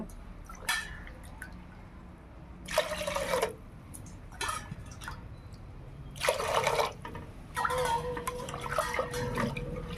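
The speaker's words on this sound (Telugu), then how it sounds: "మూడు గ్లాసులు నీళ్ళు పోసుకున్నామండి" Water is poured from a glass over moong dal lentils in a pot, three separate splashing pours with drips and trickles in the pauses between them.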